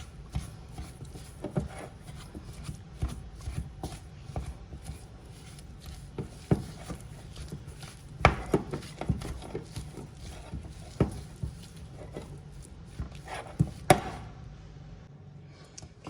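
Soft cream cheese filling for jalapeno poppers is worked in a bowl with a utensil, giving repeated scraping and tapping strokes in a loose rhythm, close and moderately loud, with no talk.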